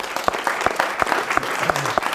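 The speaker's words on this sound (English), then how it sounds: "Let's give a round of applause." Audience applause at a Davos panel session on brain health, with sharp individual claps landing in a loose rhythm over a background of softer clapping.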